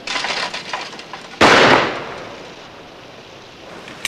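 A single loud shotgun blast at a clay target on a shooting range, a sharp close crack at mid-clip that rings out and decays over about a second, with quiet ambience and faint noise before and after.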